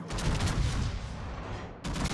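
Heavy naval gunfire from a Spanish tier IX battleship, Victoria, in World of Warships, a deep booming roar rolling and decaying over two seconds before another blast hits at the end, loud with no talk.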